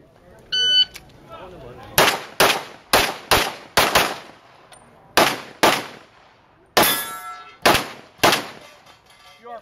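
Rapid pistol shots at an IPSC match ring off steel targets, a dozen or so sharp cracks each followed by a metallic clang, delivered in quick irregular bursts after a brief electronic start beep.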